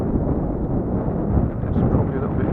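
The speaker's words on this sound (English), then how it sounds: "It's probably a little bit too windy." Strong wind buffets the microphone, a steady low rumbling roar with gusty swells throughout, with no clear voices.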